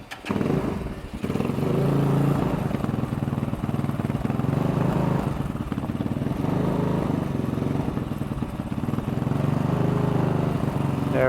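An X-Pro Templar 250 dual sport motorcycle idles steadily up close, its single-cylinder thump loud and continuous as the idle speed is adjusted, with no voices.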